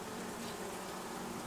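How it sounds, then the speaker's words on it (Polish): Honey bees buzz in a steady, dense drone around a small queen cage, a continuous close hum with no voices over it. "Klatkę napełnią pszczołami."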